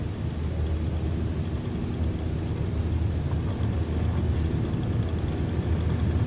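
Simulated airplane engine at full throttle in Microsoft Flight Simulator 2020, departing near Reelfoot Lake in southeastern Missouri; a steady, loud, low droning roar holds for the whole stretch with no talk over it.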